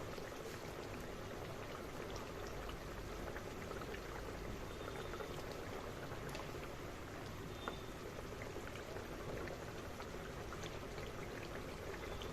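Bora fritters sliding into a hot pan of oil while cooking chanar dalna, a Bengali paneer curry, giving a dense, steady crackling sizzle that stays loud and even throughout with no talking.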